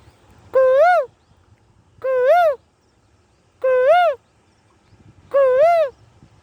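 A voice imitates a bird, giving four evenly spaced hooting calls, each a clear rising-and-falling tone about half a second long, loud and close with quiet pauses between.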